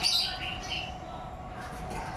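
Caged birds for sale at a breeder, sold as a package of five, chirp and squawk in bright, busy bursts, strongest at the start, over a steady background hum.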